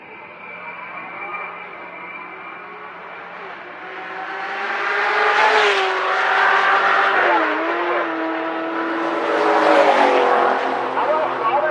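Drag racing cars, a Ford Mustang in the right lane among them, launch and roar down the strip at a race week event, the engine noise swelling and surging loudly while an announcer talks over it.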